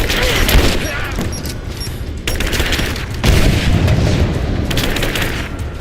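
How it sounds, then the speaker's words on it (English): Grenade blast in Rise of the Tomb Raider on Extreme Survivor difficulty, buried in a loud, dense wall of continuous gunfire and combat noise with faint shouting voices. "Grenade out!"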